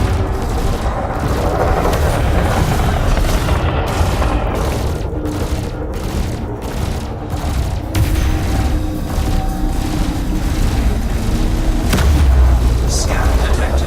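Spaceship turrets in Elite Dangerous fire steady repeated booming shots in a dense, continuous barrage, loud and close, layered with combat noise and rhythmic pulses.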